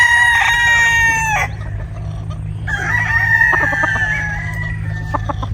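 Bull stag roosters crow loudly and close, two long cock-a-doodle-doo calls followed by short clucks, over a steady low hum.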